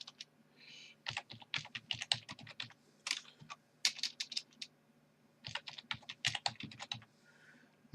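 Rapid clicking of computer keyboard keys, including arrow keys, in quick bursts separated by short pauses, close and crisp with no talk.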